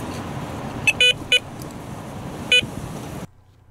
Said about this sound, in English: it's just a bleep on the alarm and a gentle knock on the rod tip